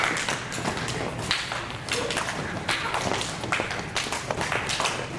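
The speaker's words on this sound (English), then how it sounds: "add a clap in there before you catch it" Children in a physical education class tossing and catching beanbags, adding claps before each catch, giving a busy overlapping patter of sharp claps and soft thuds at close range.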